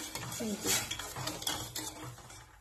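A spoon stirs sugar syrup in a pan while making kalo jam sweets from sweet potato, giving several scraping, clinking strokes against the metal at close range, with no talk over them.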